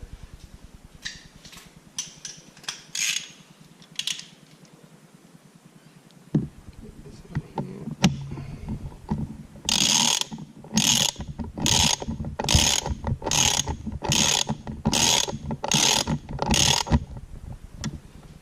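A wrench ratchets in short repeated bursts while tightening a 17mm AEM Pro Sport oil pressure gauge fitting on a GT86/BRZ/FRS, with quieter handling clicks and taps before the ratcheting starts.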